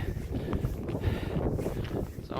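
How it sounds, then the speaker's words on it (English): Wind blows across a hill during an outdoor run, a low fluctuating rumble of gusts hitting the microphone, moderately loud and continuous with no voices. "Bit windy again."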